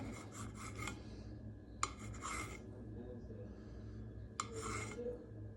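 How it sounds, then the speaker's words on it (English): A knife saws through a tortilla sandwich on a plate, giving soft rasping strokes in three short bursts with quiet pauses between them, close and fairly faint. "Then you're just gonna continue slicing it."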